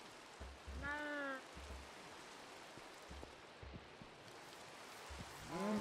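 Rain falls in Minecraft as a soft, steady hiss throughout, joined by a few short game tones and low thumps; no one speaks.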